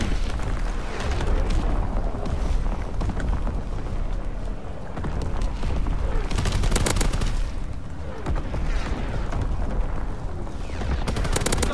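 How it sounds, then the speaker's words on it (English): Incoming enemy artillery fire in a video game, heavy booming blasts and rumbling explosions with crackling gunfire, loud and sustained throughout with repeated bursts of impacts. "Incoming enemy artillery."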